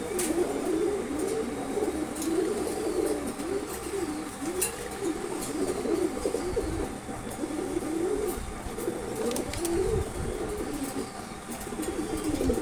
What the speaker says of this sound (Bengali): কিউট কবুতর